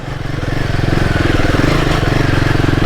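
A Royal Enfield Himalayan 450 motorcycle engine pulls steadily while riding offroad, a loud, close, pulsing single-cylinder thrum that builds slightly and holds a rough, even rhythm.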